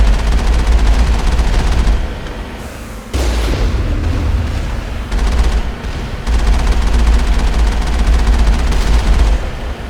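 Dense, loud gunfire and booming blasts from the Mass Effect game as a vehicle drives in circles, a near-continuous barrage with brief dips and no talking.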